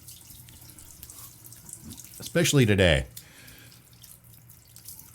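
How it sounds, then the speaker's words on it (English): Cold water runs from a tap in a sink, a constant close hiss and splash, while someone speaks briefly over it partway through. "I switch my water to cold, as cold as I can get it."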